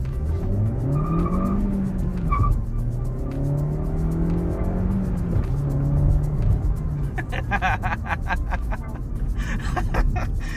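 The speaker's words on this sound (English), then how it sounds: "So I'm gonna try and floor it again in first gear, which is always so fun to experience." A 2022 Suzuki Swift Sport hot hatch accelerates hard in first gear, its engine note rising loud and steady from inside the cabin, with chirping tire squeal as the wheels break traction near the end.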